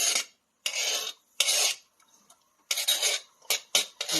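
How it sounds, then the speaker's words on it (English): Chopped onions are scraped into a pan in several short, raspy bursts of a utensil dragging across the surface, close and crisp with brief pauses between strokes. "And these onions are all chopped up. So I just scrape those into the pan."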